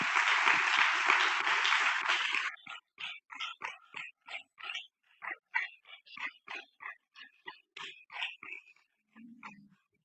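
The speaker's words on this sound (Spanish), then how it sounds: "me gustaría dar un aplauso a toda la iglesia" Church congregation applauding during a Sunday service, a dense, loud burst of clapping for a couple of seconds that breaks into scattered, uneven bursts of sound.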